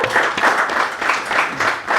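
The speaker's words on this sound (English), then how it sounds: "A round of applause." Audience applause at a couples game show, steady dense clapping from a crowd filling the whole short stretch at moderate loudness, with surges in the middle and near the end.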